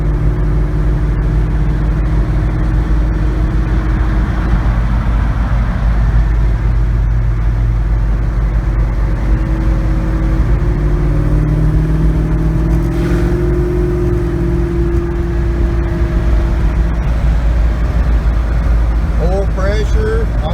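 LS-swapped Chevrolet Nova cruising at about 60 mph and 2,200 RPM, heard from inside the cabin as a loud, steady low engine drone with road rumble throughout, while people talk over it.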